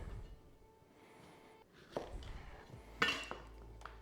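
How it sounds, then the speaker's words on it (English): Knife cutting a cucumber into strips on a kitchen board, a few soft taps and a sharper clink of utensil contact, fairly quiet and close with light kitchen clatter. "for the cucumber is I'm just going to slice this into like"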